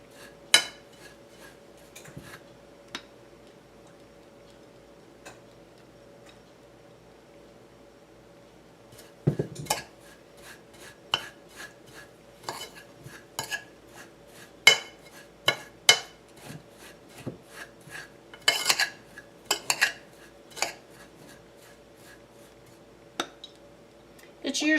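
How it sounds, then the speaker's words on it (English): Artichoke stuffing being mixed in a bowl while olive oil is slowly added, a run of scattered light scraping and clinking clicks from a utensil, near and sparse at first, then busier toward the end. "So we want to mix this up, and we want it to get almost to like a wet sand."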